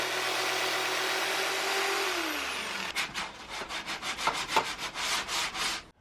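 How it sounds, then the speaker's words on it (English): A jigsaw cuts through a wood panel during a van conversion build, its rough buzzing rasp running close and steady before breaking into a pulsing, uneven chatter as the blade works along a line. "We'll just go around the jigsaw, follow the lines"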